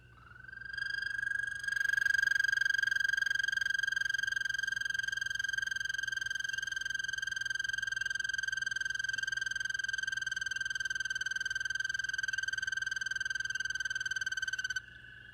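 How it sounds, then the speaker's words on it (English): A recorded male toad calls with a single sustained, steady high trill lasting over ten seconds, loud and close, with no talking. "you can listen to the calls of frogs and toads"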